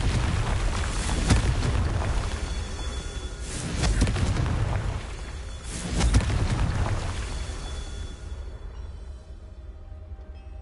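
Heavy booming blasts from the Confringo fire spell in Hogwarts Legacy, three deep rumbling explosions spaced a couple of seconds apart, each swelling and fading, the last one trailing off into quieter ambience.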